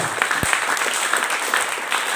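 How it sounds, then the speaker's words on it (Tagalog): Church congregation clapping in praise during a sermon, a steady crackle of many hands with one sharp nearby clap or knock standing out early. "Palakpak para sa Ginoo."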